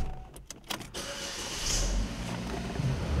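A Chevrolet Equinox starts up: a few quick mechanical clicks, then the engine catches and settles into a steady idle hum, heard from inside the car at moderate level.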